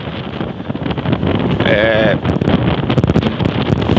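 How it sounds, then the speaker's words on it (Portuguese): Strong gusts buffet the microphone on a windy southern Brazilian beach, a loud, continuous roar of wind noise throughout, with a person speaking over it. "Muita ventania"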